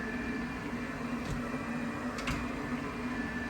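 A Hizero or Tineco S5 Pro wet mop vacuum running on tile: a quiet, steady hum with a faint tonal whine and a couple of light clicks, no voices.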